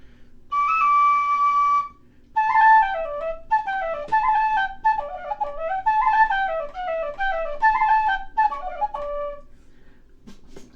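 A 3D-printed whistle with a brass tuning slide plays a lively tune. It starts with a long held note, then moves through quick runs of clear, bright notes and ends with a short pause.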